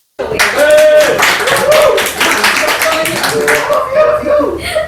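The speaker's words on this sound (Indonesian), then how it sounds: "Tepuk tangan." Applause greets the chairman of a continuous-improvement team at a company podcast event, a dense burst of clapping from a small group that runs steadily throughout, with some chatter and laughter mixed in.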